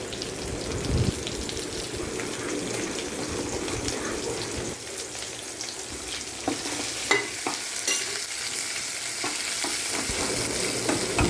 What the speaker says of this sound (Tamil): சின்ன வெங்காயம் நல்ல நிறமாக வதங்கணும்